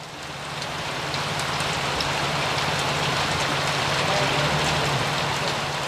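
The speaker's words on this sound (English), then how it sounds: "you can suddenly be caught in a downpour" Heavy tropical downpour in the Amazon region of north-east Brazil, a steady dense hiss of rain falling close by and continuing unbroken throughout, with no speech over it.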